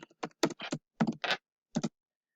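Bursts of typing on a computer keyboard, a few quick clusters of key clicks with short pauses between them, close and fairly quiet in an otherwise silent room.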